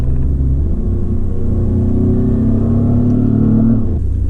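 A Renault Clio 4 RS, its engine note made through an R-Sound Effect system that imitates a Clio V6, drops a gear with a loud, close, rising rev blip over a constant rumble from inside the car.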